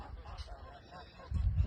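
Geese at a riverside resort give a few soft, muffled honks at close range, followed by a louder rumbling burst of low noise near the end.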